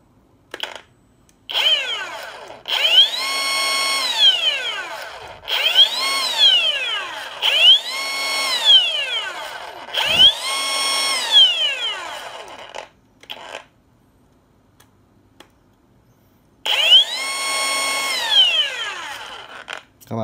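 A CMART W0046-16 cordless battery pruning chainsaw with a brushless motor revs up in repeated bursts, each a whining rise and fall of a couple of seconds, separated by short quiet pauses, loud and close.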